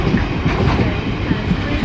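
A train with a locomotive runs through Doncaster station, a steady rumble of wheels and rail noise with faint clicking, loud and continuous across the whole moment without talk.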